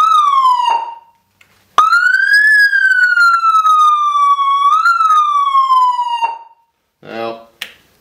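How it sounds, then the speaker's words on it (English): A loud, close police siren wails in long rising and falling sweeps, stops briefly, then gives a short burst of rapid yelping. "to engage the siren you press the button"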